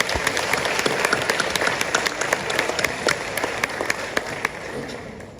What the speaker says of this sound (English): May I get a round of applause?